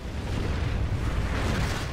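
A deep, rumbling blast of a tank cannon shot and impact in a video game, World of Tanks, dense low boom filling the whole stretch without any voices.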